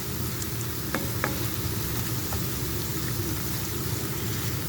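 Eggplant and egg are stirred in a frying pan, an even close sizzle with occasional light scraping and tapping of a utensil against the pan, no voices.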